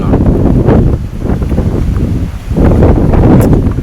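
Loud wind in the middle of a farm field blasts the microphone in heavy rumbling gusts, easing briefly before surging back strong and close.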